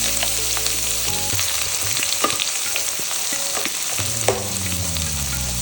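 Onions with bay leaf and curry leaves frying in hot oil for Andhra fish pulusu, a loud continuous sizzle with spatula stirring and scraping throughout.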